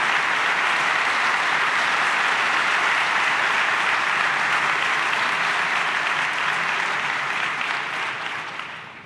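Sustained, dense applause from a large audience welcoming the Second Lady of the United States at a business gathering, an even wash of clapping for about nine seconds that fades slightly at the close.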